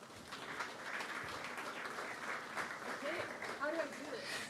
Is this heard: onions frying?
no